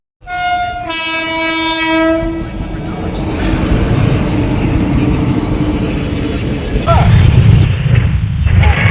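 A train approaches a level crossing where pedestrians keep walking across. A long horn blast sounds first, then a loud, close, steady rumble of rolling wagons and clattering wheels builds and continues to the end.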